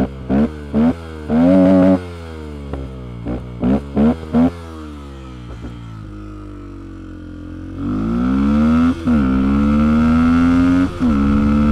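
A Fantic 125 motorcycle out on a road gives several short, loud throttle blips, then revs up in one long rising acceleration that holds steady, heard up close with no voices.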